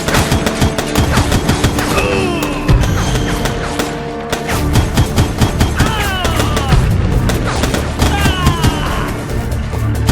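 Sustained heavy gunfire in the Foreclosed video game, dense overlapping shots and bursts rattling continuously for ten seconds, with some voices mixed in under the barrage.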